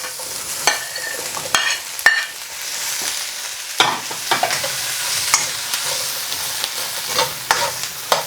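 Chunky vegetables and eggplant stir-fry over high heat in hot oil for an aubergine garlic-sauce dish, a steady close sizzle broken by repeated sharp clatters of the pan and utensil, with no voices.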